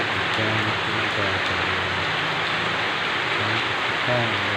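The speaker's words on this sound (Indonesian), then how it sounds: "Hujannya besar, hujan hingga" Heavy rain pours in the evening, a dense, steady hiss of water falling on surfaces that stays loud and unbroken throughout, with faint low tones under it.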